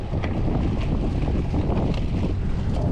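Strong wind buffets the microphone while riding a gravel bike in a race, a loud continuous rumbling roar with gusty fluctuations throughout.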